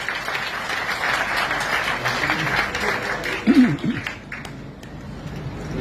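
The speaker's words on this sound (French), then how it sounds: "Applaudissez Ayoka." An audience applauds at an event, a steady mass of clapping that carries on throughout, with a few voices mixed in.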